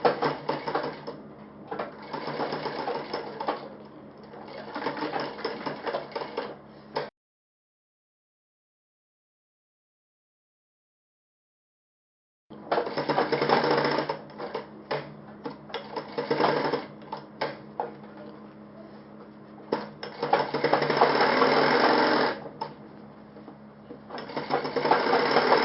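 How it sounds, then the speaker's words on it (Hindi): A sewing machine stitching a cuff onto a shirt sleeve runs in a steady, close mechanical whir, stops for several seconds of silence, then resumes with varying speed and a rattling hum. "अब ये सिलाई पूरी कर लीजिए।"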